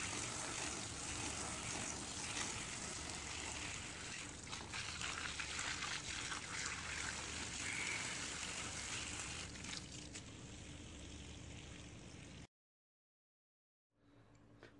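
Water running steadily while harvested home-grown bananas are washed, a faint continuous splashing and trickling that stops abruptly near the end, then a brief quiet resumption.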